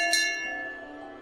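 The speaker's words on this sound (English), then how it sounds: "They use a bell to signal each other when they're ready to depart." A single strike of a cliff railway's signal bell rings out clearly, its bright metallic tone decaying slowly over about a second.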